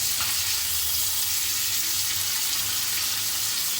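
Pomfret fish frying in oil in a pan, a bright, close, continuous sizzle with a faint low hiss, unbroken and alone.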